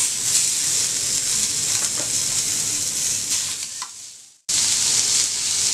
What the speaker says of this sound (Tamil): நான் மத்தி மீன் வந்து grill பண்ணிக்கிறேன்